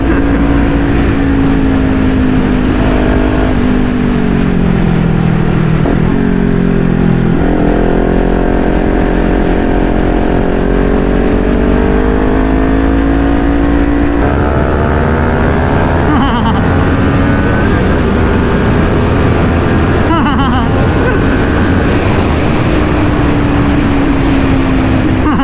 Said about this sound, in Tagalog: Nagre-rev limit yung kay Kuya Aaron eh.